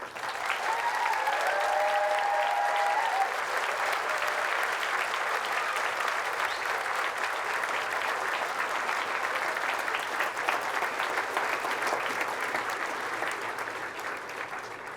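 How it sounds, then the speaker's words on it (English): Sustained applause from a large audience at a University of Aberdeen summer graduation ceremony. Dense clapping stays loud and steady for the full stretch, with a few brief voices rising above it near the start, then eases off slightly toward the end. "let's have a round of applause"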